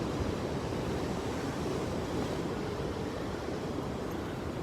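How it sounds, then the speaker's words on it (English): Sea surf below coastal cliffs near Sydney ocean pools in early morning, a steady broadband wash of breaking waves with some wind buffeting the microphone, continuous and fairly loud without distinct individual crashes, no voices. "And listen to the sea behind us."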